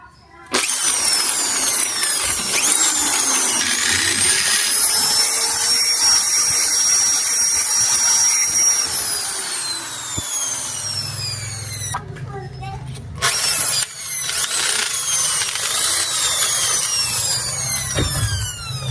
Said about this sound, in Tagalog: Gagamit tayo ng barena.